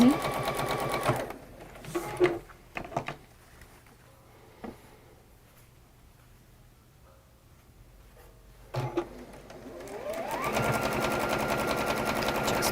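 A sewing machine stitches plain quilt squares together to form a block corner, a steady mechanical whirr in a short burst at the start, then quiet handling, then a longer sustained run to the end.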